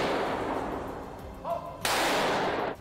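Gunfire at a weapons training session for Ukrainian volunteers, with sharp loud reports against a broad noisy background, the last burst lasting about a second.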